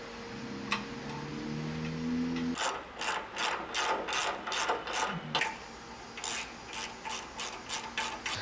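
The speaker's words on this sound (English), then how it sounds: "we're going to be tightening these down to 60 foot-pounds" A ratchet tightens bolts on a C4 Lo Pro bumper fitted to a Toyota 4Runner, torqued to 60 foot-pounds. After a low hum, close, crisp bursts of clicking repeat in steady strokes with short pauses between them.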